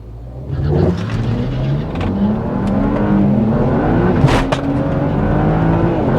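A BMW E90 335i with the N54 engine spinning its wheels at a drag strip, engine note rising steadily under hard acceleration, loud and close with a continuous roar and tyre noise.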